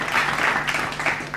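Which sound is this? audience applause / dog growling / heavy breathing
audience applause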